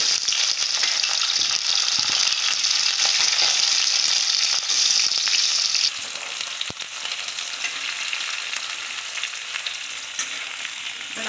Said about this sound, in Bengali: পেঁয়াজটা দিয়ে দিচ্ছি, এবার আলুগুলো দিয়ে দিচ্ছি।